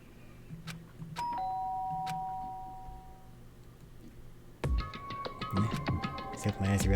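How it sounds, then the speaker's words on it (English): Doorbell chime in the Danganronpa video game, a ringing tone near the start followed by a busier burst of bright chiming notes later, over quiet game background. "did I hear the doorbell?"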